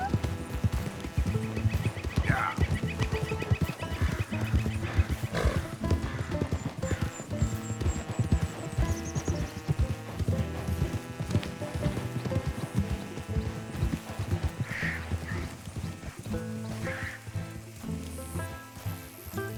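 Donkey brays and hoofbeats clop in the western open-world game Red Dead Redemption 2, with steady hooves and whinnying over a busy, constant game soundscape.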